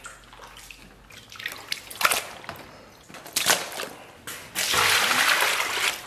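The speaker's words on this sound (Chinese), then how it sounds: "咱们给里边稍微来点水，再次给它揉洗一下" Pork intestines are rinsed and kneaded by hand in a basin of water, with wet squelching, splashing and trickling in irregular bursts, close and fairly quiet, growing louder toward the end.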